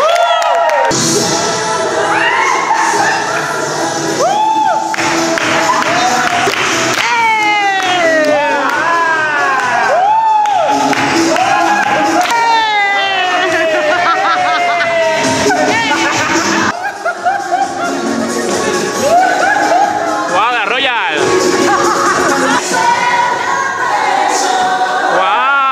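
A live dance-contest gala audience roars with loud, sustained cheering, whoops and high shrieks, a dense crowd din filling the whole stretch, with voices shouting throughout.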